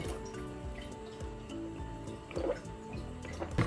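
A water bottle being refilled at home, with a soft trickle and drip of running water, a brief splashy surge partway through, and a low steady hum underneath.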